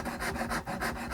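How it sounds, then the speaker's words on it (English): A straight-edge sanding block is rubbed back and forth along a wooden guitar fretboard, giving close, rhythmic rasping strokes about every quarter second. "then put it parallel to the fretboard and sand it in this way"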